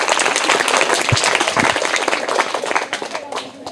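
An audience at a school competition claps loudly for the winner, a dense, sustained burst of applause with faint voices mixed in, thinning out near the end.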